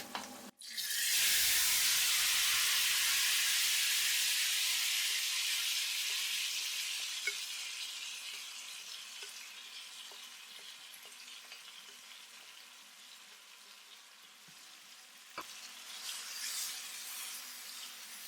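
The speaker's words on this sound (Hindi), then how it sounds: "चिकन को अच्छी तरह से मसालों के साथ भूनेंगे" Chicken hits hot oil with half a teaspoon of black pepper and spices, bursting into a loud, steady sizzle over high flame that slowly eases to a softer continuous frying hiss, with a faint clink near the end.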